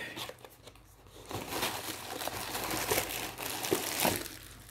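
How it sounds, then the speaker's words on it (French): Crinkly packaging of a Révillon chocolate box being opened, producing a close run of crackling, crumpling rustles that grow busier and louder partway through, with no voices. "Les amis, on va ouvrir le paquet."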